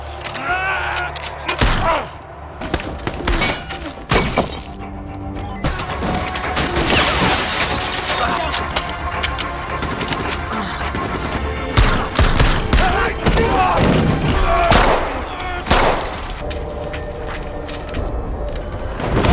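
Dense gunfire and explosions in an action film battle scene, rapid volleys of shots, booms and shattering impacts packed together, loud and close throughout with no dialogue.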